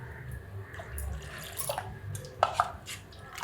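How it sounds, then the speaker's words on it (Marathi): Water is poured into a bowl of jowar flour mixture, a soft trickle followed by a few distinct drips and splashes close by, with no talking. "एवढं पाणी घेतले अजून मी हे ह्याच्यामध्ये ओतते"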